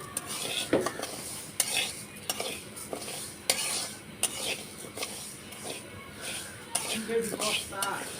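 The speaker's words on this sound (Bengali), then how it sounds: "ডালটাকে আমি সুন্দর করে নেড়ে চেড়ে ভেজে নিচ্ছি।" Mung dal being stirred and dry-fried in a hot wok, repeated scraping and clinking of a spatula against the metal over a soft sizzle, with a voice speaking at times.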